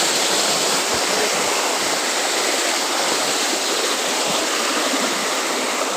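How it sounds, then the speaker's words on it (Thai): A waterfall pours into a flowing stream with a loud, dense, unbroken rush of water, close and steady throughout. "ไปน้ำตกนะฮะ"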